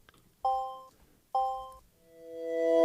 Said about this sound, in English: So this one is reversed.